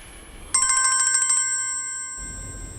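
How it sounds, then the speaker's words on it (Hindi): A telephone rings with a rapid electronic trill, one loud close burst of fast pulses followed by a fading tone. "बस आप बासित को फोन करें, उसको कहे वहां जाके हमारी बात कराए उससे।"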